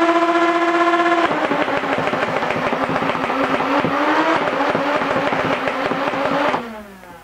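A supercharged Nerf Rival Nemesis blaster firing, a loud whining motor rev followed by a rapid rattling burst of shots that runs for several seconds before spinning down, close and alone.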